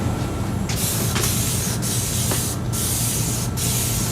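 Aerosol cleaner sprayed onto the grimy brake calipers of an abandoned Trek mountain bike, several loud close hissing bursts of varying length over a steady low background rumble.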